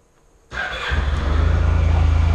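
A 600cc scooter engine cranks and fires after a short quiet pause, settling into a loud, rapid, throbbing idle close by.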